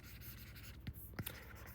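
Pen scratching on paper while writing out a heading, faint soft strokes with a couple of brief taps over a low background hum.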